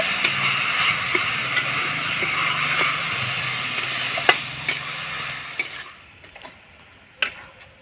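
Jaggery filling with a splash of water stirred in a pan, a steady scraping sizzle with small clinks of the spoon, louder at first and then thinning into scattered taps.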